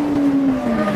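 A vehicle racing past on the road in late afternoon, a loud close engine whine sliding slowly down in pitch over about a second as it goes by.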